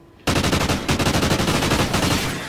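Rapid automatic gunfire during a competitive team scrim in a first-person shooter, a dense, loud burst that starts abruptly and runs continuously with a brief break.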